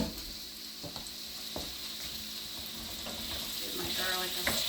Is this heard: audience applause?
no